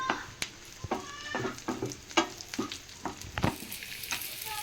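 Melon seeds fry in a pan during the making of vermicelli payasam, giving sharp crackles and pops over a soft sizzle, with occasional stirring sounds.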